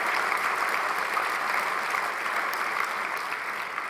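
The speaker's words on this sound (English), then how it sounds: "Let's give Jeff Merkley a big round of applause" Audience applause for Senator Jeff Merkley fills the room, steady and dense clapping from a sizable crowd that holds at an even level throughout without any voices over it.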